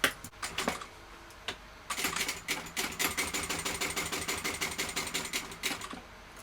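A sewing machine topstitches a folded strap on a small bag, a fast, even mechanical chatter that runs steadily for several seconds after a few short starts.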